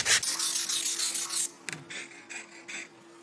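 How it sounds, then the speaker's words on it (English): Hand sanding of wooden napkin holder pieces: close, scratchy rubbing strokes, a sustained stretch then a few shorter, lighter passes, with no voices. "We sand it first because it's harder to sand the insides of it when it's assembled."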